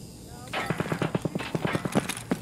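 Rapid gunfire from Escape From Tarkov in a factory raid, a burst of about a dozen sharp close shots in an uneven rhythm over a low background hum.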